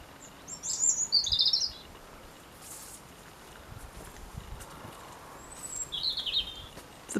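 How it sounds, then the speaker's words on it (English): Birds feeding outdoors give short, bright bursts of chirping, one cluster early and another near the end, over faint background rustling. "The birds are having a grand old feed."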